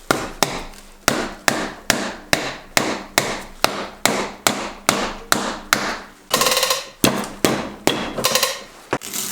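A broom hammer strikes wood in a steady rhythm, about twenty sharp knocks one after another, close and loud, with no talking.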